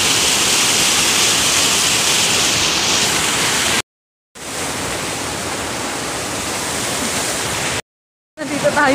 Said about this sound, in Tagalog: Nandito tayo sa Tongtong Falls, tapos napakalakas ng pressure.